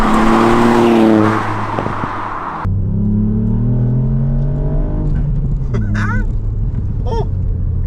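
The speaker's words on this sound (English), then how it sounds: "we've also got that new air intake on, so it sounds really cool now as well. It's a proper addictive sound." A 200bhp Mk8 Ford Fiesta ST with a new air intake being driven: a loud, close engine note climbing in pitch, then a drop at a gear change and another rising pull, with short chirping intake sounds near the end.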